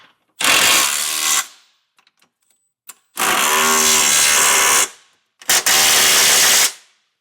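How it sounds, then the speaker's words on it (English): Power tool driving the bolts of a Curt trailer hitch receiver on a 2018 Toyota Highlander with a 19mm socket, three loud whirring bursts of roughly one to two seconds each, separated by brief pauses with faint clicks, no talk. "Now we can tighten everything down with a 19mm socket."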